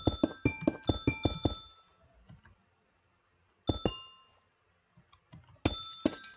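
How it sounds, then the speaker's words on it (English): Amethyst blocks being placed in Minecraft, a run of bright chiming glassy clinks in quick succession, then a pause and a few more scattered ringing chimes, close and clear. "this amethyst blocks and the budding amethyst make the most amazing sound in Minecraft"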